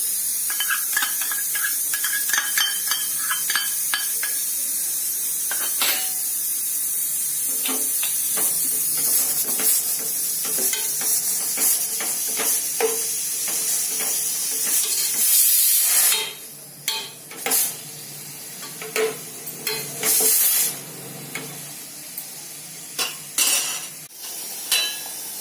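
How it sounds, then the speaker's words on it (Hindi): Onions cook in a pan for oil-free chole with a little asafoetida, a steady high hiss of steam and bubbling with repeated clinks and scrapes of a spoon stirring against the pan. "देखिए प्याज अच्छे से पूरी तरह से उबलने लगा है।"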